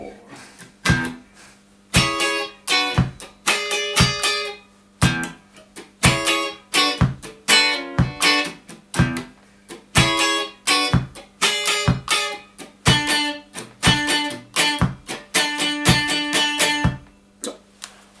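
Clean, choppy funk guitar riff, with sharp muted strums and stabs repeating in a tight syncopated groove, close and alone.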